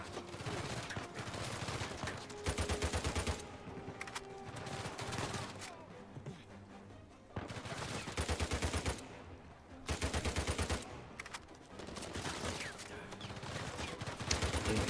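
Gunfire rattles through an Uncharted 4 firefight in loud rapid bursts of automatic shots, with short lulls between volleys over fifteen seconds.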